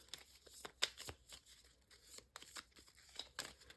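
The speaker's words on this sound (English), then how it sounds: "We're going to shuffle our cards." A deck of playing cards being shuffled at a table, a series of quick crisp riffles and taps, close and fairly quiet with no talking.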